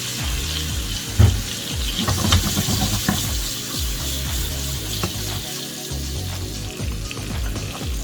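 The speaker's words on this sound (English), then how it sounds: "And you're going to fry them on very low heat, about 5 minutes on each side." Koi fish fry in a pan over very low heat, a soft steady sizzle with occasional clinks and stirring noises, close by and without talk.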